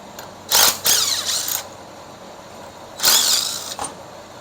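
A ratchet wrench loosens the mount bolts on the tail housing of a 1969 Pontiac GTO TH400 transmission, with two bursts of rapid clicking close by and a quieter pause between them.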